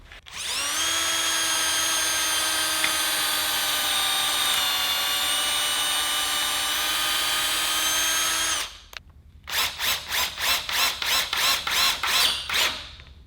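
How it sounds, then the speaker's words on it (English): A power drill with a long 1/8 inch bit bores into the wooden ends of stiles and rails, a steady high motor whine for several seconds, then a quick series of short trigger bursts close by. "I'm going to drill holes into the ends and connect all the stiles and rails on the back"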